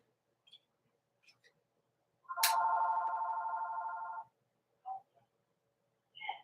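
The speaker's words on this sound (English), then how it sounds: "And there goes the phone." A telephone rings for an incoming spam call, one close electronic trill lasting about two seconds in a quiet kitchen, with faint clicks and short beeps around it.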